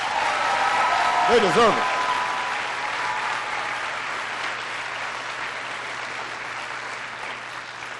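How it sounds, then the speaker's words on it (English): Sustained applause from a large audience honoring teachers at a presidential education event fills the whole span, steady and full, slowly tapering, with a brief spoken remark over it near the start. "Give your teachers a big round of applause."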